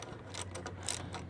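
Quick clicking ratchet strokes tighten a bolt on a GY6 scooter engine, several short close metallic bursts in just over a second.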